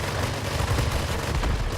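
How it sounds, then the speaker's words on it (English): Rockets exploding on the ground in the World of Warplanes video game, a dense, continuous rumble of blasts and crackling detonations with no pauses, loud and close, with no voices. "By shooting the rockets at the ground, you actually cause a large enough blast radius to be able to kill a low-flying ground attacker."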